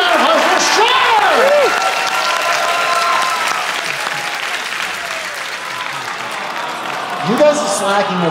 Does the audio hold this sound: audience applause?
yes